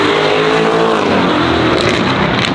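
A widebody Lamborghini Urus tuned to 780 hp with a loud aftermarket exhaust roars steadily and close, heard from inside the cabin with a window down, with a constant heavy drone and no talk.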